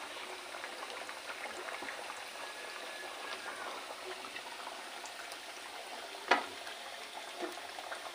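Fish frying slowly in oil in a pan, a soft continuous bubbling sizzle heard close, with one brief sharp clack partway through.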